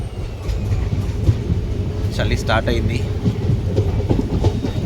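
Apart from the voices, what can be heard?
Chennai SF Express 12604 train running on the track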